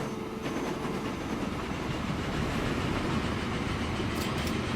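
A train passing by in the video game Train Fever, a steady rumbling roll with faint clickety-clack that holds at an even, fairly loud level throughout, with no talking.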